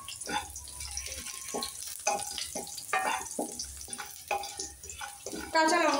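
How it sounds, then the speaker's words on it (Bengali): Chopped green chillies frying in hot oil in a pan, a crackling sizzle with intermittent stirring scrapes and clinks, one voice speaking over the cooking. "কাঁচা লঙ্কাটাও আমি অল্প একটু ভেজে নেব"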